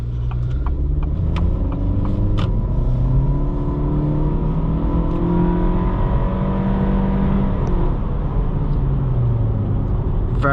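2023 Acura Integra A-Spec in sport mode with traction control off, accelerating hard; a loud, close engine drone rising and falling in pitch through the revs, steady and continuous throughout.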